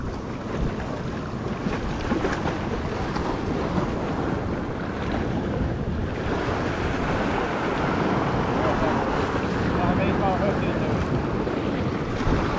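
Ocean waves wash against the Perdido Pass jetties, a continuous roar of surf mixed with heavy wind buffeting the microphone, close and steady throughout with no talking.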